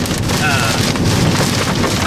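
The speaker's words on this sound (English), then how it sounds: "I'm calling it a major hailstorm right now" Heavy hail and rain pounding down during a major hailstorm in central Oklahoma City, a dense, loud, continuous roar of impacts with no pause, some voices faintly mixed in.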